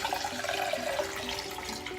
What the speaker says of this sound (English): So we just have a glass of water fitting here, and I'm just going to pour it in.